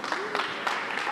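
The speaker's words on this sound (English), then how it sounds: "A big applause to Jabu." Brief applause from an event audience for a presenting team at a hackathon, scattered claps mixed with some crowd voices, moderately loud.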